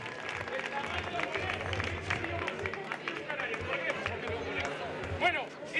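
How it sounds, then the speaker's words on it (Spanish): An audience applauds a guest performer at a live stage show, sustained clapping from a crowd that fills the room, with voices and cheers mixed in throughout. "Fuerte el aplauso para el de Bonegro"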